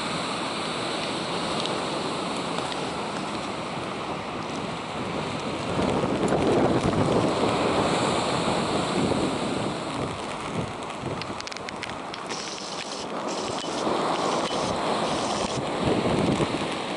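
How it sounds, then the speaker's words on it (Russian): Stormy winter sea at Lazarevskoye on a rainy day, with a constant roar of surf and wind that swells in broad gusts and crashing waves, dense and fairly loud throughout with no voices. "На море шторм."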